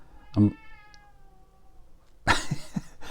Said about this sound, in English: I start my video and he starts meowing.